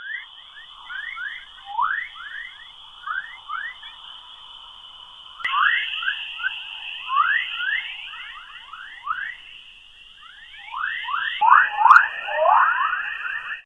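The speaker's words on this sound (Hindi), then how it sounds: "अब हम आपको अपनी पृथ्वी की आवाज को सुनाएंगे, जो हमें धरती पर बैठकर नहीं सुनाई देती हैं।" A recording of Earth's sound from space: eerie electronic chirps and warbling swoops repeat rapidly over a steady high whistling tone, shifting pitch twice; synthetic and otherworldly, with no voices.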